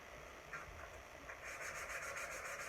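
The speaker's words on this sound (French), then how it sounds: "Donc là, ce que je fais, hop, je ponce." Hand sanding on a marquetry nightstand, a faint, rhythmic rubbing that grows more insistent partway through, with repeated back-and-forth strokes close by and no talk.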